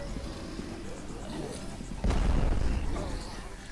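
A grenade explosion in the zombie shooter Dead Purge: Outbreak: one heavy, low boom bursts out partway through and rumbles on, following steady background game noise.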